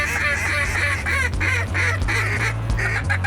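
A flock of geese honks loudly and continuously as the birds fly in over a Michigan waterfowl hunt, the calls overlapping in dense repeated bursts close overhead.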